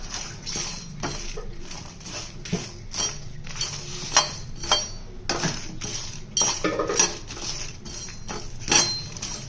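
Whole spices, including coriander seeds, dry-roasted together in a pan with no oil or ghee over a medium flame for an Andhra chicken fry, giving a close, steady run of metallic scraping, clinking and rattling strokes throughout, with no talking.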